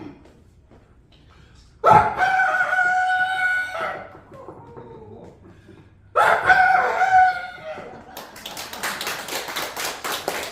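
A human voice imitates a rooster crowing long and drawn out, as if carried from a neighboring village, in a Korean vocal impression performance. Two separate extended crows sound, each followed by fading tail-off, then rapid clapping or tapping near the end.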